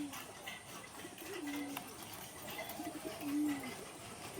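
Male pigeon, a large Kaldoma cock, cooing in two drawn-out low coos with a murmur of voices and faint background noise.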